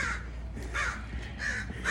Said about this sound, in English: God, I love the crows.